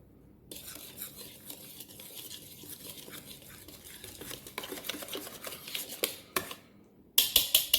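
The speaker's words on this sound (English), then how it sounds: "baking powder, salt. We're going to whisk that all together." Flour, baking powder and salt whisked together in a bowl, a soft scratchy stirring that grows busier and louder, then ends in a few sharp metallic taps.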